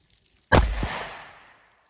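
A single loud, sharp report from a Winchester Defender 130 grain 38 Special +P cartridge fired from a snub nose revolver, an abrupt blast at close range with a short decaying tail, heard alone.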